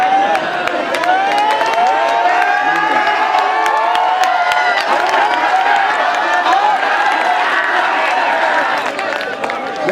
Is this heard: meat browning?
no